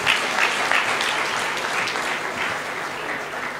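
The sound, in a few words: audience applause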